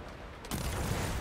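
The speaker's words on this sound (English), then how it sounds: "That was a lot of firing." Cannon fire from sailing ships in the naval game Man O' War: Corsair: a sudden loud, dense volley of overlapping booms and crackling blasts that bursts in midway and rolls on, with no talk over it.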